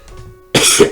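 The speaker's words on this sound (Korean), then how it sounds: "기침이 나오네요" A single sharp, close cough bursts out after a moment of near silence, with a short throaty tail and no speech around it.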